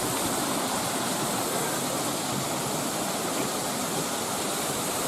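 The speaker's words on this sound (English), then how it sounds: "Crawfordsburn waterfall" Waterfall in the ravine at Crawfordsburn Country Park near Belfast, a steady, loud, close roar of falling water that stays constant throughout with no voices.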